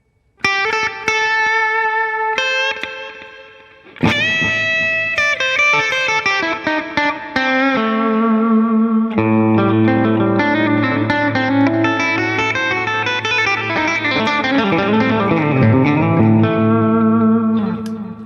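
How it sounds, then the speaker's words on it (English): Electric guitar playing a blues solo drenched in reverb, with a short delay echoing the notes; chords ring out and sustain, loud and continuous with no talking. "there's a little delay, a little kick of that delay. But there's a lot of reverb."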